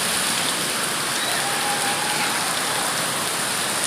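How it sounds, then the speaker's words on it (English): Heavy rain pours down in Calabar, a dense and constant hiss of drops beating on surfaces nearby, unbroken and without voices. "See Calabar rain."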